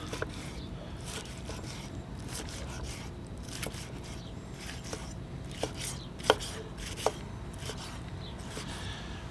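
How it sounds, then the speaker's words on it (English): Knife chopping through cooked prime and choice beef steaks on a cutting board: a steady stream of soft slicing strokes with a few sharper knocks of the blade hitting the board, close by and without talk. "knife is cutting like butter"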